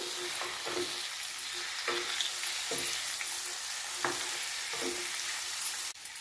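Ivy gourd and potatoes frying in a pan make a continuous bright sizzle, broken by regular scraping strokes of a spatula stirring about once a second, close up with no voices.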